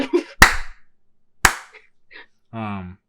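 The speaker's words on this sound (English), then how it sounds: "Two claps." Two sharp hand claps about a second apart, close and loud, with brief talk and a short voiced sound between and after them.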